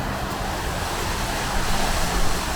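A small waterfall pours into a tectonic rift at Thingvellir, Iceland, giving a steady, close, broadband rush of falling water that swells slightly toward the end, with no voices.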